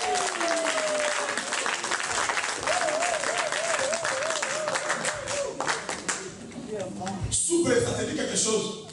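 A church congregation claps and cheers throughout, a dense steady applause with voices calling and singing over it, growing louder toward the end.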